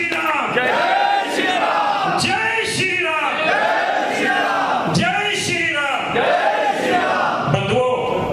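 A large crowd roars out a rhythmic chant of Jai Shri Ram in repeated loud bursts, voices surging together over clapping at a Ramlila committee meeting.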